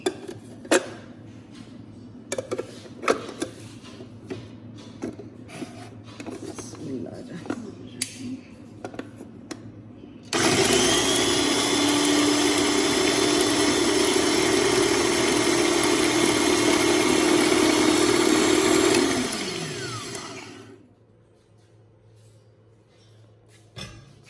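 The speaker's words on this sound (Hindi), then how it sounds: "तो अब मैं इसको ब्लेंड कर लेती हूँ" Clattering and knocks, then a blender roars loudly and evenly for about ten seconds while blending aloe vera gel before spinning down and stopping.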